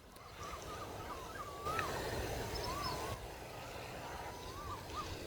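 A brown shrike in Thailand sings quietly with faint, thin whistled phrases and a brief burst of mimicry over steady background noise, the notes soft and distant.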